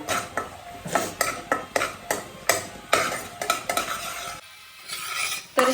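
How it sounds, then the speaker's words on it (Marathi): Egg fried rice is stir-fried in a pan, with a spatula scraping and knocking against the metal in quick repeated strokes over a soft sizzle, close and fairly loud, without any talking. "तर आता हे परतून घेऊया"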